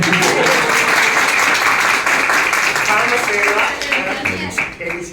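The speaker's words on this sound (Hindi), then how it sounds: "मैं आपके लिए ताली बजाता हूँ।" An audience applauds during a Hindi spiritual discourse, giving a dense burst of clapping while a voice talks over it. The clapping fades slightly toward the end.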